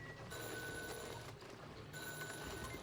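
A party line phone rings in the video game Oxygen Not Included, a faint repeated electronic bell in two bursts over a quiet game ambience, with no talk over it.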